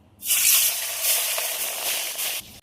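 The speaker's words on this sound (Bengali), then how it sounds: "মাছ ভাজার জন্য কড়াই বসিয়ে" A sharp burst of hissing sizzle as rohu fish hits hot oil in a kadai, loud and close, settling into a steady crackle for a couple of seconds.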